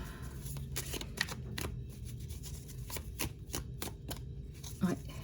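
Tarot cards are handled and flipped on a table, producing a quick series of crisp snapping and shuffling clicks in irregular rhythm, close and moderately loud, with a soft voice speaking underneath.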